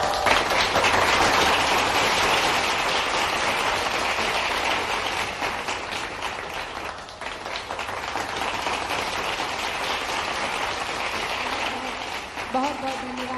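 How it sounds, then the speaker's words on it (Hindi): Loud, sustained applause from a crowd at a public foundation-stone ceremony in Jabalpur, dense and steady throughout, with a voice briefly rising near the end. "जोरदार तालियां।"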